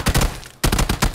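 Automatic gunfire in PUBG: two loud, rapid bursts of shots about half a second apart, separated by a brief silent gap, close and dominant.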